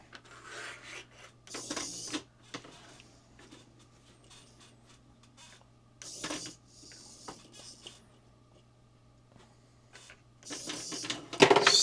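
A cheap Temu RC monster truck crawls slowly over an obstacle, its small electric motor whirring in short bursts with scraping and rattling of plastic wheels, close and fairly quiet with pauses between pushes.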